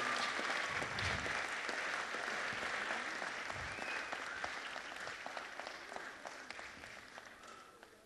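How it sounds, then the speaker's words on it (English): Indoor audience applause at a city council meeting honoring people during presentations, a dense, steady wash of many hands clapping that gradually thins and fades toward the end. "Let's give them a big round of applause."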